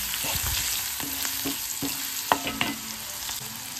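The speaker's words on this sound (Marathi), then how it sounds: "या दोन्हींना आपण आता असं मिक्स करून घेऊ छान असं।" A spoon stirs turmeric and salt into upma in a hot pan, giving scraping, clinking strokes over a steady sizzle, with a few sharper knocks against the pan.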